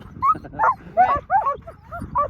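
A dog named Loki lets out a run of short, high whimpers and yelping barks, about six bursts in quick succession, close and fairly loud.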